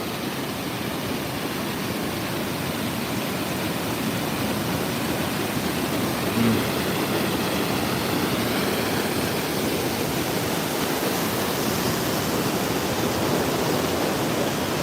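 Steady, loud roar of the Bayang Sani waterfall after a major flood, with rushing water, continuous and unchanging throughout, no voices.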